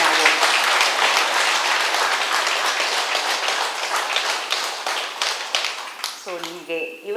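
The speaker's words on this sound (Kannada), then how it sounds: "ಸೊ ಅವರಿಗೆ ಒಂದು ಜೋರಾಗಿ ಚಪ್ಪಾಳೆ ಎಂದಿದೆ ನಾವು" An audience at a health and meditation talk breaks into loud, sustained applause that fills the hall for several seconds, then fades as a voice begins speaking.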